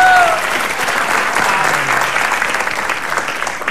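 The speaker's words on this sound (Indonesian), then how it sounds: "Tepuk tangan." Studio audience clapping on an Indonesian television talk show, a steady, loud, dense round of applause filling the whole moment without a break.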